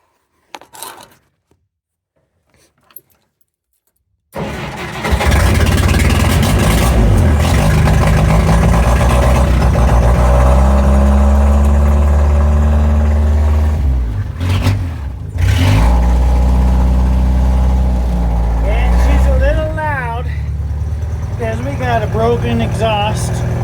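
A 1958 Jeep DJ-3A Dispatcher with a broken exhaust cranks and catches after a few quiet seconds of fumbling, then roars loudly into a rough, rumbling idle with blips of revving, close and dominant throughout.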